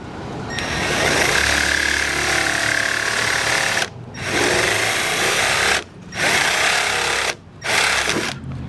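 A power drill bores a hole in the trunk of a 2010-2014 Ford Mustang, loud and close in long bursts, whining steadily, then stops and restarts in shorter runs with brief pauses between.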